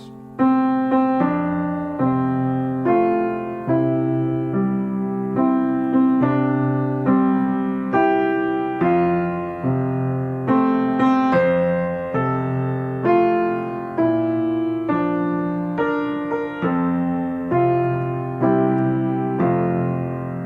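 Piano playing a steady sequence of spread left-hand broken chords, each low note struck and followed by higher tones rolling upward, even in rhythm, clear and close.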